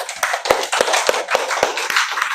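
A classroom applauds group 1 after its presentation with a brief patter of handclaps. Several distinct, fairly close claps sound over roughly two seconds, loose and slightly uneven.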